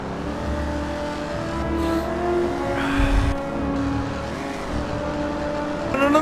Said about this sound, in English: I need a car right now.